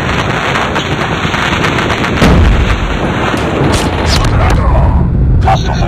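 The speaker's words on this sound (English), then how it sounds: "Enemy airstrike incoming." Enemy airstrike explosions in Call of Duty Mobile, a dense, continuous barrage of booming blasts and rattling gunfire filling the whole stretch, loud and close, with game voice callouts mixed in.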